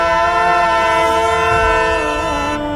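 A train rumbles past close by, its loud horn blaring steadily throughout over the heavy rolling noise of the railway cars, with no voices.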